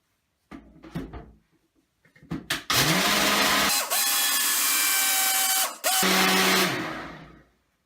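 A blender blasts juice mixed with powder, its motor starting with a rising whine and running loud and steady for several seconds, then winding down after a few clicks and knocks.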